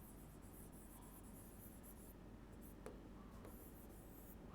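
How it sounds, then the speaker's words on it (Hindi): A pen writes a definition on paper during a biology lesson, making a faint, steady scratching against a hiss of background noise, with no one speaking. "तो पहले डेफिनेशन लिख लेते हैं"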